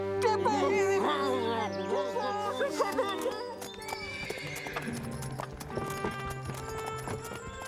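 A horse whinnies loudly near the start, then its hooves clip-clop in a quick irregular patter while a voice speaks briefly over the neighing.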